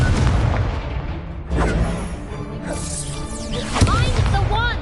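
Booming blasts and whooshes of spell combat in Hogwarts Legacy, including the Incendio fire spell, loud and close in repeated impacts, with a voice shouting over them.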